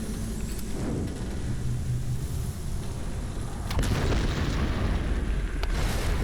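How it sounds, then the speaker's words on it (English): Deep rumbling underground explosions in the video game Tomb Raider (2013), a continuous low boom that swells louder near the end with a few sharp bursts, no talking. "And then now it causes super explosions underground."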